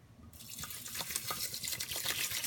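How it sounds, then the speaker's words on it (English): Water pours into a rice cooker pot holding two cups of rice, a steady close splashing stream that starts abruptly and continues unbroken, with no voices. "I'm going to go ahead and add the water in"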